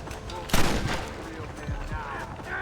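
Gunfire rattles through a Wild West shootout in Red Dead Redemption, a loud burst of shots followed by scattered cracks and rumbling impacts, with voices calling out amid the fight.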